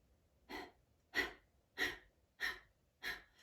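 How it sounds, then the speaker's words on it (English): Five evenly spaced audible exhales during a breathing exercise, each a soft breathy push about every 0.6 seconds, close and quiet with no talking. "take a big inhale and then begin only focusing on the exhales and make a little audible sound"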